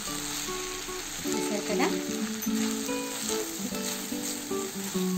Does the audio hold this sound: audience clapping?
no